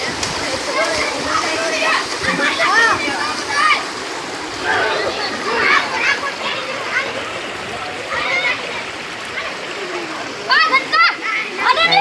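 Feet splash and slosh through flood water in a rain-soaked village, with choppy bursts of splashing close by and children and other voices chattering throughout.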